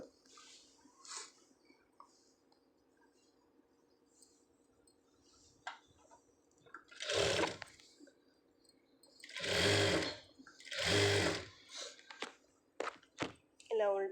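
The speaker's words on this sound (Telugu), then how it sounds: "అందుకని మళ్ళీ ఒక కుట్టేసేస్తున్నాను స్ట్రైట్గా దానిపైనే." Sewing machine running a straight seam back over fabric in short bursts, with whirring stitching rising and falling among quieter handling noises and a voice talking between the runs.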